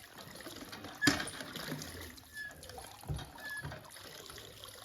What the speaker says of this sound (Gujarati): આ રીતનું પાણી આવતું આપણે આને કહેવાય ડંકી